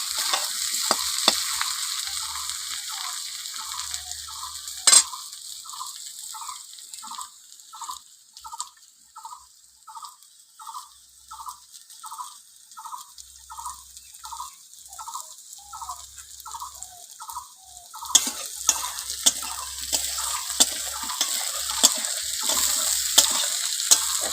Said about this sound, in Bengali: আলুটা একটু ভেজে নেব হালকা লাল করে